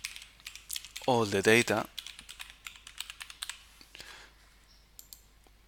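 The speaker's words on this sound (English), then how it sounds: "And then we type again" Rapid typing on a computer keyboard, a close run of light clicking keystrokes that starts under a short spoken phrase and carries on alone, tapering off.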